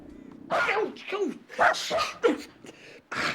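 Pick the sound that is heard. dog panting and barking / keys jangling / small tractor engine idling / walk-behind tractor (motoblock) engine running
dog panting and barking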